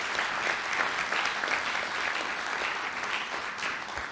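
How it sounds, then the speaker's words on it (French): Audience at a forum on buildings and climate action applauding a panel of three speakers, dense even clapping at moderate loudness sustained from start to finish. "je pense que vous pouvez les applaudir"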